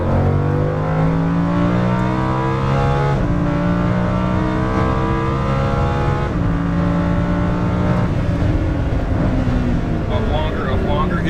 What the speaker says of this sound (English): Downshift 1, wide throttle pedal, a little bit more.